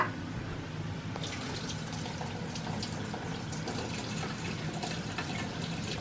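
Hot water from cooked kimchi noodles being poured off from a heavy pot into a sink, a steady splashing gush that runs on through the whole stretch at close range.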